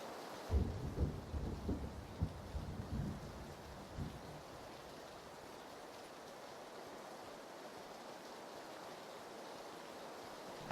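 Steady rain hisses over a coastal area in PUBG, with low rumbling thumps near the start before it settles into an even, fairly faint wash of rainfall.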